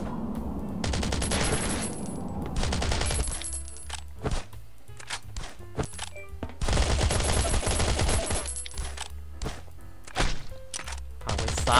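Shooter video game played on an iPad, with gunfire while shooting people inside a house: loud rapid bursts of automatic fire, broken by short pauses and scattered single shots, with thuds between volleys.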